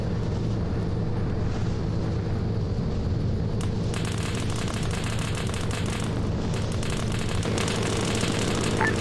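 Heavy video game gunfire rattles continuously throughout, dense bursts with booms and a steady low rumble, loud and close with no talking.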